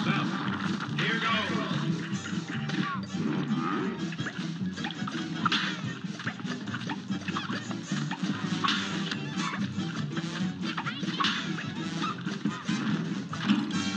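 A cartoonish goose honks repeatedly in the Cuphead game, the calls layered over busy game music and effects while a player talks over it.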